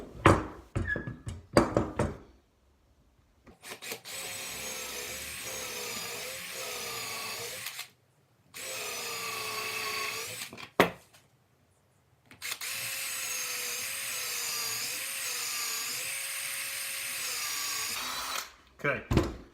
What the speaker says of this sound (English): Do a little pilot hole.